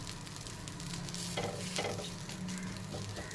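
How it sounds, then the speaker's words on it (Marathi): A spicy ghavane pancake roasting on its second side in a pan, a steady, even sizzle with faint crackles, heard alone. "आता आपण याची दुसरी बाजूसुद्धा एक दोन मिनटं शेकून घेणार आहोत"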